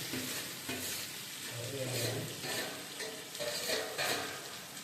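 Ridge gourd pieces fry and get stirred in a pan, giving a steady close sizzle with repeated scraping stir strokes throughout and no voices.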